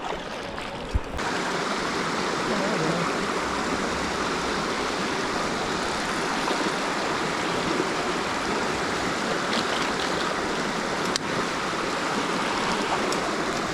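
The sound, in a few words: brook stream flowing in a national forest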